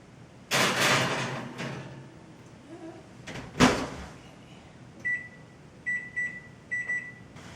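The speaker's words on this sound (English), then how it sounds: "we're ready to put it in the oven for about 12 minutes. I'm going to put it in the middle rack" A pan of Oreo crust goes into an oven onto the middle rack: a couple of clunks from the door and rack, a sharp bang, then several short electronic beeps as the oven is set.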